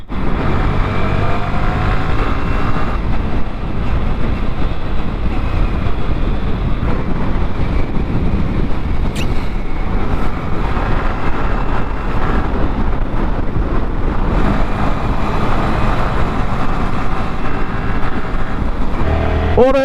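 Motorbikes riding along the Thanchi-Alikadam road in the Bandarban hills; a steady engine drone mixed with rushing wind buffeting the microphone, continuous and close for the whole stretch, no talking.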